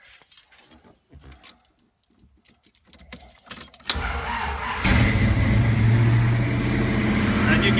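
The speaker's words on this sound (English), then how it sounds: "As you can hear, it's cold right now. It hasn't been warmed up. It is idling a little high." Keys rattle in the ignition of a 1978 Dodge Ramcharger before the cold engine cranks and fires. It settles into a steady, slightly high idle that stays close and loud throughout.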